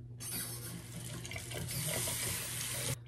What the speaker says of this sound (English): So now I'm gonna rinse it out with cool water.